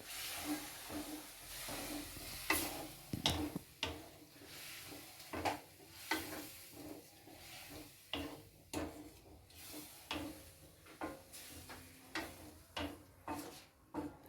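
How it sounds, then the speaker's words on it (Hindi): A ladle stirs kadam fruit chutney with a little added water in a pot, giving soft repeated scraping and sloshing strokes at an uneven rhythm, close by, with faint simmering hiss between them. "धीरे धीरे करछी हिलाते हुए इसे कितनी देर तक चलने देंगे?"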